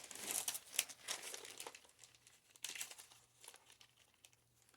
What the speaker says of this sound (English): I love the sound of the Bible pages turning